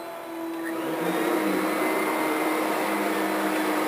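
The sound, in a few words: upright vacuum cleaner running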